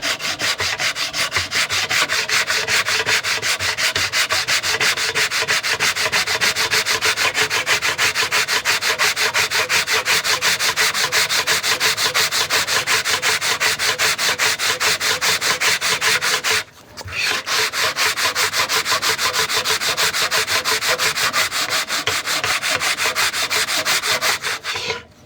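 Steady, continuous rasping of sandpaper worked back and forth over dense exotic hardwood on a veneer keepsake box, loud and close, with a brief pause near the end before it resumes.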